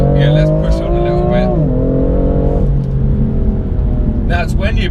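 2018 BMW M4 Competition accelerating hard, with a loud engine note climbing through the revs, dipping at a gear change and then pulling again, while a voice talks over it.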